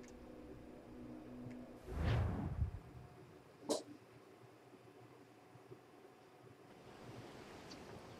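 Ocean waves in the pirate-era video game Assassin's Creed Freedom Cry, a faint steady wash of surf with one louder swell rushing through and a brief splash, otherwise low and even.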